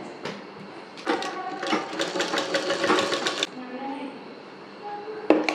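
A sewing machine stitches lace onto folded fabric in two loud bursts of rapid, rhythmic mechanical whirring, separated by short pauses, with someone speaking softly between the runs.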